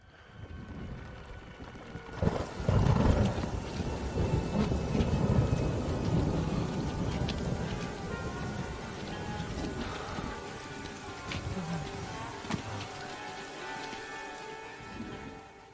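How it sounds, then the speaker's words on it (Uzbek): Steady heavy rain patters on surfaces with low rumbling thunder swelling early on, a continuous wet hiss broken by a few sharp drips and knocks, no voices. "Bu oddiy yomg'ir. Bu yerlarda tez-tez yog'ib turadi."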